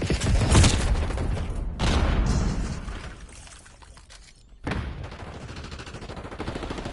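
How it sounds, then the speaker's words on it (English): Bursts of gunfire and a grenade blast in a first-person shooter video game, loud opening bursts, a short gap, then more sustained firing and rumble resuming. "Grenade incoming!"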